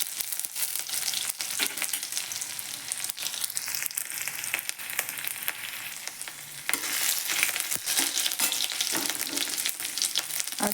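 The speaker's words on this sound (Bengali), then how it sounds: "এর মধ্যে দেবো কোরানো আদা, আদাটা অল্প হালকা ভেজে নিচ্ছি।" Grated ginger frying lightly in a pan with cardamom, giving a steady loud sizzle with stirring scrapes and clatters throughout, the hiss rising slightly toward the end.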